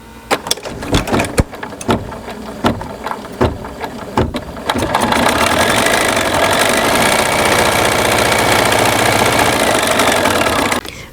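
Embroidery machine stitching a placement line on vinyl for an in-the-hoop eyeglass case: a few separate mechanical clacks at first, then a fast, steady, loud needle rattle running continuously.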